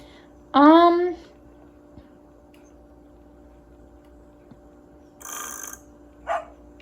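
A small dog-shaped clock in the Nancy Drew game Ghost Dogs of Moon Lake gives one short, bright, high-pitched bark near the start, followed by faint later clicks and a brief bit of noise, with no talking.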